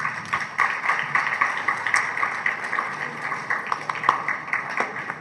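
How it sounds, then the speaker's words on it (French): Audience at an award ceremony applauding a company's distinction, a steady, fairly loud patter of many hands clapping with uneven individual claps standing out. "Je vous demande de l'applaudir."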